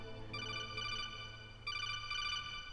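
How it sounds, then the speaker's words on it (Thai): A telephone ringing in the stealth video game Metal Gear Solid: two clear electronic ring bursts, each a rapid warbling trill, over a low steady game hum with no voices. "ไม่รับโทรศัพท์หน่อยเลย Meryl."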